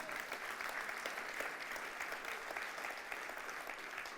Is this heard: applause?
yes